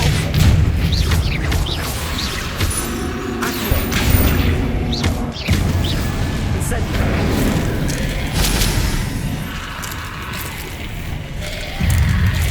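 An Incendio fire spell cast in Hogwarts Legacy, heard as loud booming bursts and crashing thuds in a busy fight, with talk over the top.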